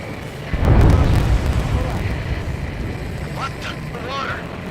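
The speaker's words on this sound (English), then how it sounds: "We're only hearing explosive echoes." Underwater explosions in the Ace Combat 7 video game, a loud deep boom swelling in near the start and rumbling on, with radio voices chattering over the tail.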